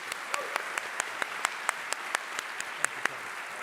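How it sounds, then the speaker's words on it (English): A small audience applauds panel speakers after a discussion on civility and bipartisanship, giving sparse, distinct claps at a moderate distance over a soft bed of general clapping. "Let's give them a round of applause."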